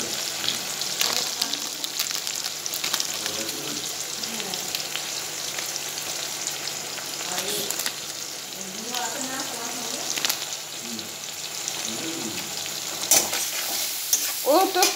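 Spices with turmeric and chili powder fry in a pan, a bright steady sizzle broken by stirring scrapes, while a voice speaks briefly in the background.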